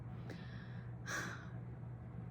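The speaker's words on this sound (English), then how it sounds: "I apologize for the snores." An infant son snoring softly nearby: a faint snort-like breath early on, then a louder rasping snore about a second later, over a steady low room hum.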